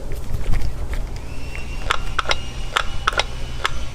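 Throttle body on a forged engine being worked open and closed by hand, giving a series of sharp mechanical clicks and snaps in an uneven rhythm, close up over a low background rumble, with no talking.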